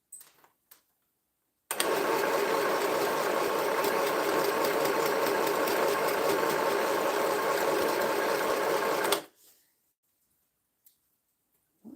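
A sewing machine runs steadily for about seven and a half seconds while quilting, starting and stopping abruptly, loud and close with an even mechanical whir and no talking.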